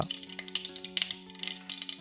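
Mustard seeds splutter in hot coconut oil, giving a dense, steady crackle of small pops over a sizzling bed. A faint sustained hum runs underneath and no one speaks.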